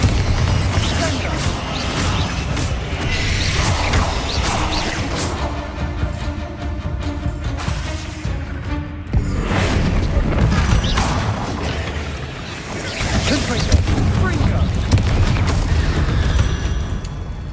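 Confringo and Bombarda spells in Hogwarts Legacy go off as a dense run of booming, crashing blasts with rumbling debris, loud and continuous and barely easing off.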